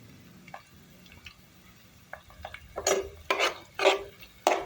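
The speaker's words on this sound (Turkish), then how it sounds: "Şimdi onu da kavuruyoruz biraz." Onions and peppers sauté in a hot pan for a Turkish şehzade kebab with potatoes, giving soft rasping sizzles and stirring scrapes that grow louder and come in several strong bursts toward the end, close up with no talk.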